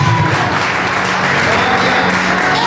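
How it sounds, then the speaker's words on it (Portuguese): A church congregation at an afternoon consecration service claps loudly in praise, a dense, continuous roar of many hands with a faint hum and some voices blended into the steady applause. "Que nessa tarde as suas palmas louvam o Senhor."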